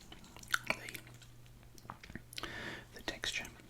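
Grain Waves chips eaten close to the microphone: scattered crisp crunches and bites mixed with soft whispery mouth noises, quiet overall.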